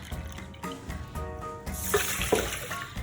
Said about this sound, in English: and then I'm going to add a whole cup of water.